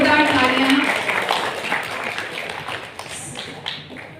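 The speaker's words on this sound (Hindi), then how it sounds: "जोरदार तालियां" An audience at an international conclave and award ceremony breaks into applause, a dense wash of clapping that starts loud and gradually thins and fades over a few seconds.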